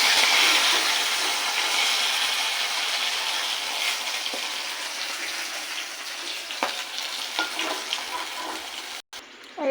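Rohu fish pieces fry in hot oil, giving a loud, steady broadband sizzle with a few light utensil knocks near the end, no voices.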